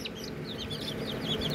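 Kadaknath chicks peeping on a farm, a quick run of high, thin peeps repeating over a low steady background, fairly close and continuous.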